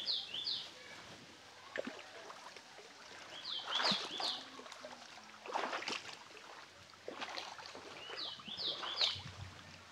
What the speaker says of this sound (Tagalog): Huni ng ibon ang maririnig.